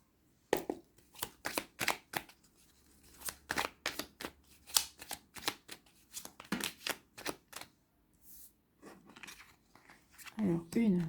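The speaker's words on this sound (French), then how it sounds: "Allez, on va aller voir ici 9 cartes. On va aller chercher 9 cartes." Cards handled and drawn one by one from a deck for a nine-card spread, giving a long run of crisp, close snaps and flicks in an uneven rhythm, with a brief voice near the end.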